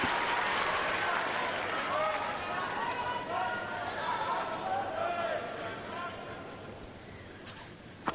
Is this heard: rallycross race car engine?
no